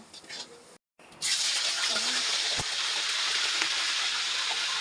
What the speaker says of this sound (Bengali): মুরগির মাংসটা ভাজা হচ্ছে রোস্টের জন্য